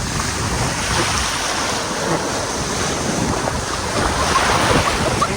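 Ocean waves break in zigzag lines around a sandbar while island hopping, a continuous loud wash of surf mixed with strong wind buffeting the microphone, no speech.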